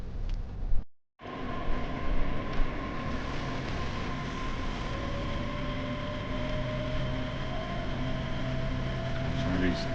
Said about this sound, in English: So we'll wait for the metro to show up